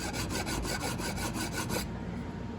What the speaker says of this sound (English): take a little file here. This is what I have handy, and file away a little bit